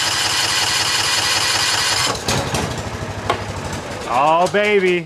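A John Deere engine with its muffler fallen off fires up and runs rough and loud, chugging unevenly. It then drops back and a voice exclaims near the end.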